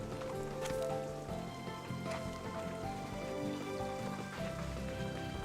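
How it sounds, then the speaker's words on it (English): A heavy rainstorm in the video game Slime Rancher 2, with a little wind: dense, steady patter of rain over a layered, humming musical background, moderately quiet and continuous, with no voices. "A massive rain storm, less of a thunder, and a little bit windy."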